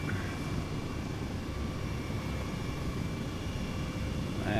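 An Airbus H135 helicopter in Flight Simulator 2020 flying around Chicago gives a steady, dense engine and rotor drone, continuous and fairly loud with no talking.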